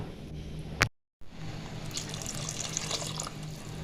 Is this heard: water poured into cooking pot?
yes